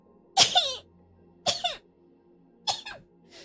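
Three sharp sneezes burst out close by, evenly spaced about a second apart, with quiet pauses between them.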